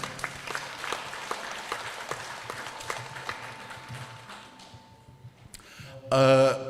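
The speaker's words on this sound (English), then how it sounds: "let's give us a round of applause, because we're making some advancements." Audience applause at the 10th FSM Women's Conference in Chuuk State, a moderate, steady patter of many hands that thins out toward the end, followed by a brief louder burst of ringing tones.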